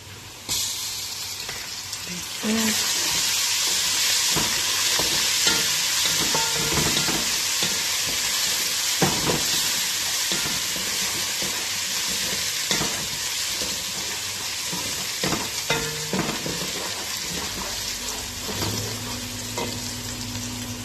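Garlic drops into a hot pan and breaks into a loud, dense sizzle that holds steady, with frequent scraping stir strokes and clicks of a utensil close by.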